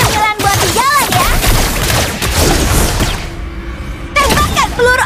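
Layla's golden bullet shots in the Mobile Legends game ring out as loud, dense bursts of firing and booms over busy game effects, with a short quieter gap near the end.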